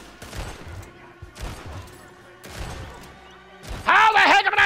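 Gunfire rings out in the Wild West shooter Red Dead Redemption 2, several sharp shots spaced across the scene amid game ambience, ending in a louder, denser burst near the close.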